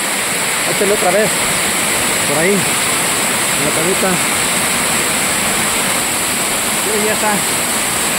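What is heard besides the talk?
river waterfall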